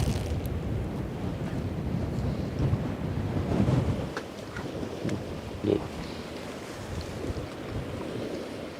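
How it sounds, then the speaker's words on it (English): Wind blows along the Westerschelde river, buffeting the microphone in low, rumbling gusts of moderate, uneven strength, with faint distant background sounds beneath. "Also, the wind is less than Monday."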